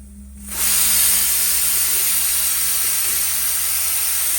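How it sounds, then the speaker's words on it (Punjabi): Tadka for dal hits hot oil with a sudden loud, steady hiss that flares up after a brief quiet start and holds without a break to the end. "ਇੱਧਰ ਇਹ ਤੜਕਾ"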